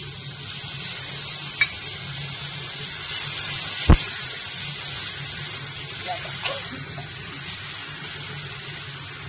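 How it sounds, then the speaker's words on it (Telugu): Tempering sizzles steadily in a pan after tamarind juice, turmeric and salt are added, a close continuous hiss with a sharp clack of a utensil midway, while someone speaks over it. "పోపు అంతా బాగా వేగింది కదా, ఇప్పుడు స్టవ్ ఆఫ్ చేసుకొని"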